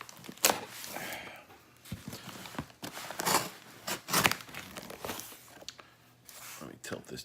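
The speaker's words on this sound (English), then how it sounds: "So I guess let me cut the box here first." A blade slicing open a cardboard shipping box holding a 2019 Inception Designs Retro Ripper, heard as close, uneven scraping, tearing and crinkling bursts under quiet talk.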